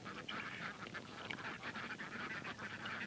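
A flock of ducks kept together in a pen keeps up a dense, continuous chorus of overlapping nasal calls, fairly close and steady throughout, with no talking.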